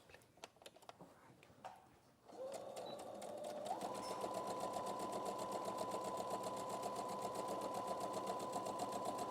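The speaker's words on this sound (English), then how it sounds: "I'm going to sew in a continuous line all the way around, leaving the top edge free" Sewing machine stitching one continuous seam around the edges of a fabric bag, a steady close, even whir running without pause after a few scattered handling clicks at the start.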